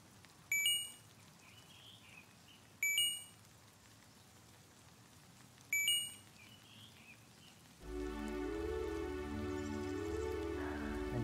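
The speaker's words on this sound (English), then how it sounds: "Rain, after all these years." In a video game, steady rain sets in partway through, a dense, even patter that takes over after several sharp chiming blips repeat against a quiet background.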